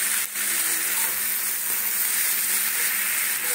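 Loud, steady sizzle of food frying in a hot wok, a continuous hiss that fills the whole stretch without any talking.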